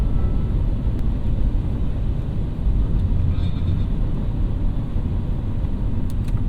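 A 2025 Mini Cooper JCW engine roars steadily in its loud drive mode, a dense, constant, close rumble that runs unbroken through the whole stretch.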